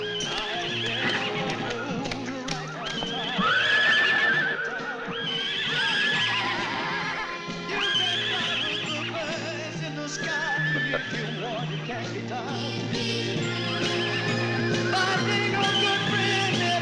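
Horses in a western comedy film setting whinny repeatedly in loud, rising cries over a continuous clip-clop of hooves and faint rolling wheels. No one speaks.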